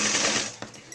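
Brief burst of a sewing machine stitching a shoulder seam on a dhoti-style dress, a close mechanical whir that fades within a second.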